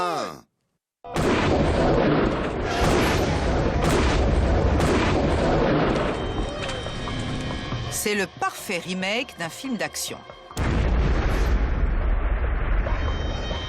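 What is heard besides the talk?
car exploding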